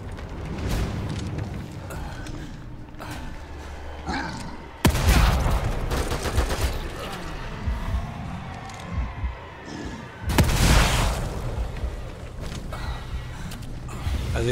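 Gunfire from an allied character in The Evil Within 2, with bursts of shots and heavy impacts over a rumbling, creaking game soundscape, loud blasts near 5 and 10 seconds standing out above the rest.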